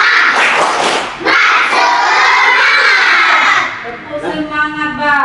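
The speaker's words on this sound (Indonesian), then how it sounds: "coba tepuk semangat." A group of children at an elementary school outing shout a loud spirit clap chant together, with rhythmic clapping and thumping beneath their voices, close and energetic.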